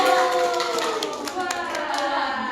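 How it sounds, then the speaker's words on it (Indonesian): A classroom of elementary pupils claps for a student group, scattered light hand claps mixed with children's chatter and voices. "Beri tepuk tangan dulu buat kelompok"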